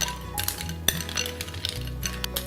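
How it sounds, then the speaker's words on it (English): A spoon stirs a handful of ice in a container of dates and vanilla, making close, bright clinks and rattles against the sides, irregular and crisp, with no talking. "A handful of ice, and add it to our dates. Stir it, let it cool."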